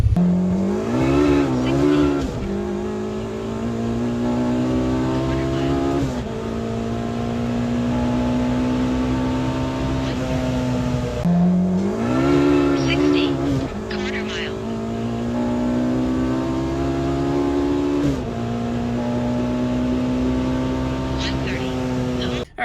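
K-swapped Mini Cooper on a test pull, engine revving hard through several gear changes with rising pitch and brief drops between shifts, loud and close from inside the car.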